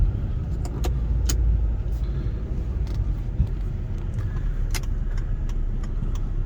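A 2011 Volvo C30 R with a manual gearbox driving onto the freeway, heard from inside as a steady low road and engine rumble with small rattles and clicks in the cabin.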